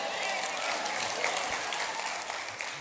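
A church congregation breaks into steady, dense applause that fills the room continuously, with faint voices mixed into the clapping.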